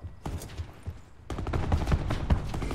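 Dense automatic and rapid gunfire from a Call of Duty Black Ops 4 multiplayer match, distant and sparse at first, then a loud, sustained barrage of overlapping shots and bursts.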